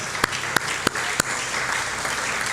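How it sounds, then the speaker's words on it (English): Steady audience applause at a senior center volunteer recognition event, with a few sharp, louder individual claps standing out near the start over the continuous patter. "Give a big round of applause."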